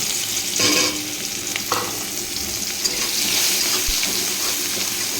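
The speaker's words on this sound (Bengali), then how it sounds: "ফোড়নটা একটু ভাজা ভাজা হয়ে গেছে, পেঁয়াজটা দিয়ে দিলাম" Onion being fried in a spice tempering of hot oil, a steady loud sizzle with stirring scrapes throughout, broken by a few sharper clatters of utensil on pan.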